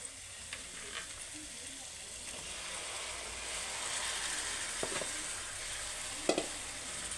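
Cooked cabbage and potatoes go into a pan with cut tomatoes, giving a soft, steady sizzle with a few light scrapes and clinks of stirring.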